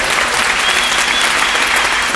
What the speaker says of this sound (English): Now that deserves a big round of applause